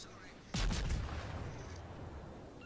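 Warship guns fire in the World of Warships naval combat game, a sudden heavy boom followed by a few quick rumbling reports that roll off into a lingering low tail.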